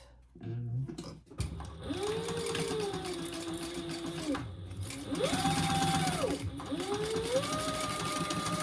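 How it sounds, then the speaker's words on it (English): A sewing machine stitches a zipper case seam in several bursts, its motor whine rising and falling with each run, close and fairly loud, with short pauses between stretches of stitching. "And then sew that at the full seam allowance"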